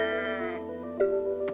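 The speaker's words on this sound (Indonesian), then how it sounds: "ada kambing" Bleating from a goat in a livestock barn in the farming game Coral Island, a single drawn-out, wavering call that rises and falls, close and clear with a brief second bleat near the end.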